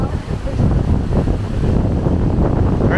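Strong wind and crashing surf on a beach in Boracay, a loud and steady roar with buffeting gusts hitting the microphone.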